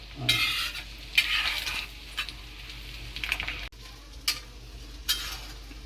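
Eggs lightly frying on a tava for egg masala, a soft continuous sizzle beneath intermittent scraping and stirring clinks of a spatula against the pan, close and moderately quiet, with no talking.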